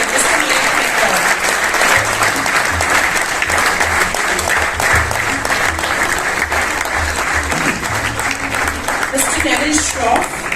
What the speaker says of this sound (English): So a big round of applause for him, Mr. Mayank Mehta.